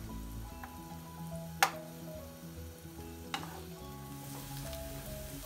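Steady sizzling of chopped onions and crushed garlic sautéing in a pan, with a couple of sharp clinks of a utensil stirring, close and continuous.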